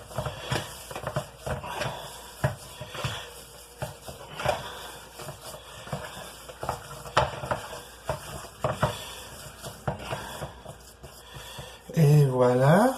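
Meat is stirred in a sizzling pan, a spoon scraping and clacking in irregular bursts over a constant frying hiss, with a voice speaking in the background and a louder burst of speech at the end.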